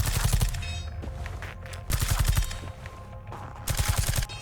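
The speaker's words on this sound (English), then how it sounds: "Shoot her with the gun." Gunfire in the video game Reverse Collapse: Code Name Bakery comes as loud, rapid bursts of several shots. Short pauses separate the volleys.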